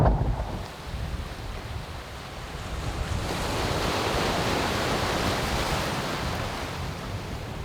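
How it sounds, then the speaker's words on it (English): Small summer ocean waves in Norway wash and break in a continuous surf, with a gust of wind noise over the microphone. "Only one out here on these small summer waves."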